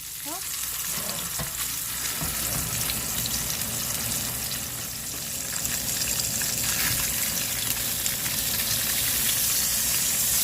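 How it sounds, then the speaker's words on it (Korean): Tofu sizzles and crackles as it fries in hot oil, a steady dense hiss with small pops, close and continuous throughout with no talking. "두부를 한번 튀겨 볼 거예요."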